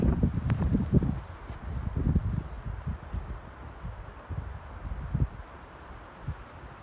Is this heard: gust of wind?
yes